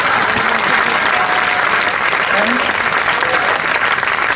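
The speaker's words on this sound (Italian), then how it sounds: "Fate un applauso di incoraggiamento." Loud, dense applause of encouragement from a live theatre audience fills the space steadily throughout, with faint voices mixed in beneath the clapping.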